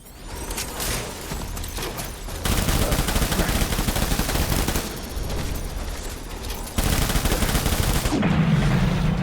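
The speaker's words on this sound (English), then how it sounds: "And then let's switch to this assault rifle, which has bullets." In the video game Death Stranding, an assault rifle fires sustained automatic bursts that are loud and dense, with short pauses between volleys and a mechanical clack at the end.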